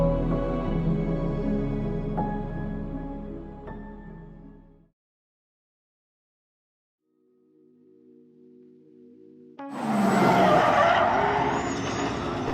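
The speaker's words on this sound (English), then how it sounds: "Max Verstappen casually drift a Formula 1 car in his rookie testing session" A Formula 1 car drifts during Max Verstappen's rookie testing in Brazil free practice: a droning, tonal engine passage drops out to silence, then a loud, harsh burst of tire skidding and squeal closes the clip.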